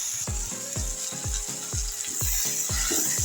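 Ginger garlic paste frying in a pan gives a steady close sizzle, cut by a series of sharp rhythmic clicks and scrapes, roughly every third of a second, from stirring against the pan.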